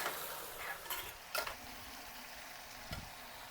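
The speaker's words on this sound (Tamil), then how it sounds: "எல்லாம் மிக்ஸ் பண்ணணும்." Tomatoes and onion being stirred together in a pan for ash gourd kootu, a few soft scraping strokes of a spoon against the pan over a faint background sizzle, close and quiet with no talking.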